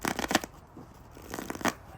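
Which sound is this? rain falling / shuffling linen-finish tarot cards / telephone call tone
shuffling linen-finish tarot cards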